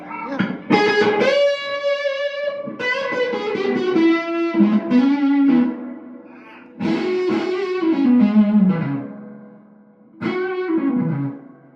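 Electric guitar played through the first Benson amp ever built, with bass at 3, treble near 7 and reverb cranked; sustained chords and melodic phrases ring out with a lush reverb tail, loud and close, in three passages with brief gaps.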